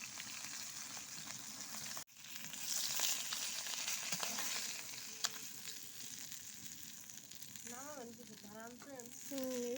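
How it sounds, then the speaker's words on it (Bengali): Chilies fry in hot oil, a loud, continuous crackling sizzle with a sharp pop early on, and a voice briefly heard over the frying near the end. "মাছ প্রায় ভাজা আমাদের শেষ এখন মরিচ ভাজা নেব"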